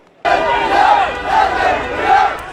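Thousands of Saudi football fans roar in a stadium at Queens Park Rangers' ground in west London during a Nassr versus Hilal match, a sustained loud crowd chant swelling in rhythmic waves after a sudden start.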